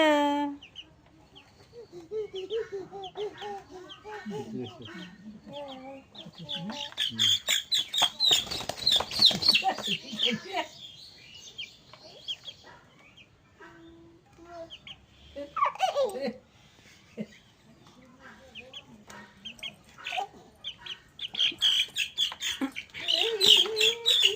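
Chickens cluck and squawk nearby in scattered bursts, some loud and some faint, with a voice and other talk heard between the bird calls.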